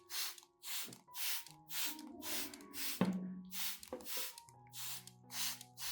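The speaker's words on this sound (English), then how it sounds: "Spray evenly on both the upper and lower surfaces of the leaves" Bursts of spray from a bottle misting a rice powder solution over orchid leaves, coating upper and lower surfaces; about ten evenly spaced, close hissing puffs with light handling sounds between, no talking.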